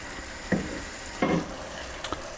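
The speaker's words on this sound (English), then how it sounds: "In goes the turkey with any juices. And just gently fold that in." Leftover turkey and its juices folded gently into curry in a hot pan, a steady low sizzle broken by two or three soft stirring scrapes and a faint click.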